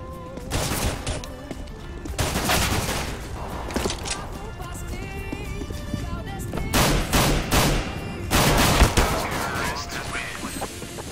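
Rapid bursts of automatic gunfire from CS:GO, loud and crackling, with dense volleys repeating across the whole stretch and a voice in the mix.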